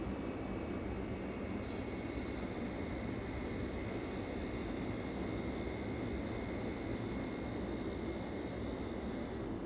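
Mount Cook Airlines airliner engines run in a steady, loud, broadband drone after landing at Rotorua, with a brief higher whine near the start and no voices.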